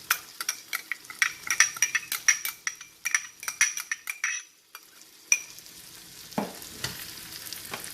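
Broccoli Manchurian being stirred with tomato and red chili sauces in a frying pan over a medium flame: repeated scraping and clinking of a utensil against the pan over a soft sizzle, with quieter stirring toward the end.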